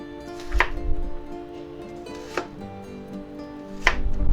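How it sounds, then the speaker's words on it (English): A knife cutting food into strips on a board, three sharp separate chops spaced more than a second apart, close and clear with no voices. "Make like strips out of it, and then you can chop them a little finer."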